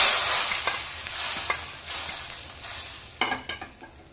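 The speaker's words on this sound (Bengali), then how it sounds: "এবার আমি এই তরকাটা কিন্তু সোজা এখানে দিয়ে দেব।" Hot tadka poured into kolai dal starts with a loud hiss that fades out, and then a few quick clinks of a pan and spoon follow near the end.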